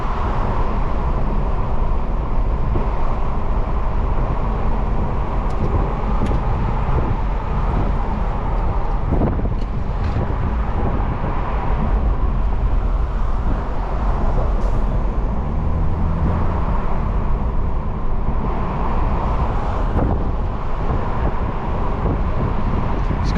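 A 2023 BMW Z4 30i accelerating on the road, heard from inside as a steady, dense roar of engine, tyre and wind noise that holds constant for the whole stretch, with no one talking.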